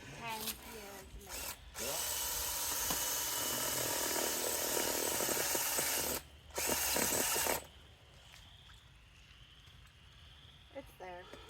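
A power drill bores into material with worn bits during a grain bin chicken coop run build, whirring steadily for several seconds, stopping briefly, then running again before quieter handling noises and faint talk.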